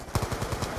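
A submachine gun fires a short, rapid burst of about eight close, punchy shots in the video game Black Ops 2.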